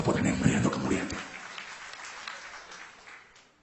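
A church congregation claps lively during a pastor's sermon, loud at first and then thinning out and fading to near silence.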